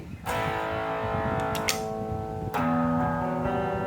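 Electric guitar played through a Flamma FS06 preamp pedal on its Plexi setting, distorted strummed chords ringing out with a few sharp new attacks, loud and alone with no talk.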